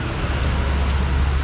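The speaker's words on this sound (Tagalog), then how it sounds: "Ito, umuulan eh, kaya medyo papatila ako ng ulan." Steady rain falls in a continuous, even hiss with a low rumbling undertone, close and moderately loud, with no voices heard.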